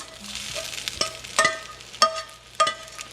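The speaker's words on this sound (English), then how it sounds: "And then now we're just going to place in the peppers and onions." Peppers and onions sizzling in a pan beside scrambled eggs, a continuous close hiss punctuated by several sharp scrapes and clinks of a utensil against the pan, with no voices.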